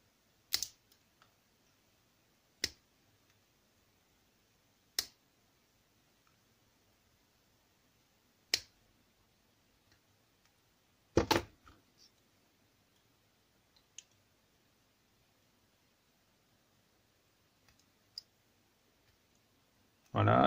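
A series of small, sharp clicks comes at irregular intervals as pliers cut and trim a piece while a figurine is enlarged, close and crisp against near silence.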